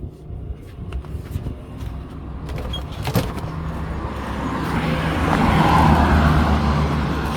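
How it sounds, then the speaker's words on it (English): Road traffic in a line of cars near a Jamaican fishing spot: a steady, close motor rumble that builds slightly louder toward the end, with no talking over it. "what a line of traffic"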